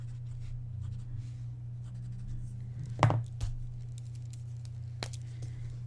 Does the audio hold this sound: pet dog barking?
no